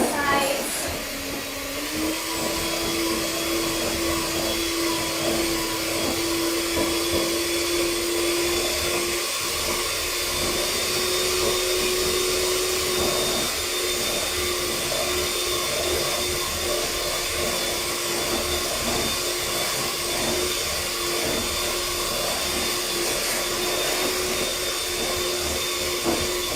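An electric mixer runs steadily on vegan lamington batter, giving a continuous high whirring drone with a slight pitch rise near the start. It stays loud and unbroken throughout.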